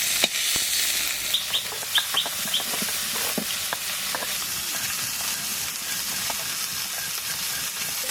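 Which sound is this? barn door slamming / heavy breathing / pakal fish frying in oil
pakal fish frying in oil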